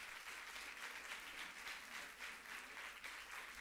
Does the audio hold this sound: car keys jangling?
no